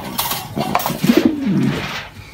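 Pigeons in a pigeon coop cooing in low throaty rolls, with rustling and flapping mixed in, close and fairly loud.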